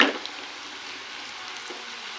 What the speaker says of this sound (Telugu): చూస్తున్నారు కదా ఎంత చక్కగా వేగుతున్నాయో